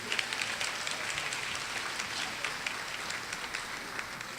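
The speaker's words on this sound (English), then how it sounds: "Another round of applause for our magna cum laude students" Applause for magna cum laude students at a spring honors recognition ceremony: a soft, even patter of clapping from a seated audience, fairly distant, steady from start to finish.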